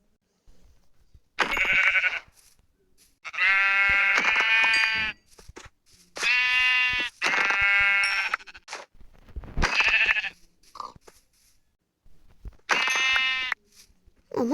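Sheep in the video game Minecraft bleat loudly and close up, a series of separate wavering bleats with short silent gaps between them.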